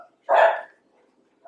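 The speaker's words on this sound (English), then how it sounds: "They are barking at my neighbor's dog who's getting them all riled up." A single sharp dog bark rings out close by against silence, with the start of another bark right at the end.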